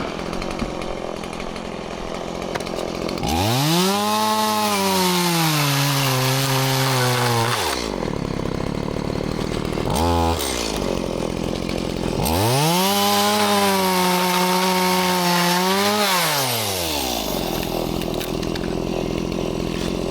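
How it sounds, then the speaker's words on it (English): Chainsaw fitted with a modified chain that has most of its teeth removed, cutting wood in two long loud bursts of revving and sawing with idling between, no talk. "That rips with that little modified chain."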